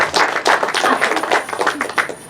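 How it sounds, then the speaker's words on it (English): Audience at a Renaissance faire bubble magician's show breaks into brisk applause after the bubble carousel trick, a dense, steady patter of many clapping hands lasting a couple of seconds. "Usually that's an applause cue."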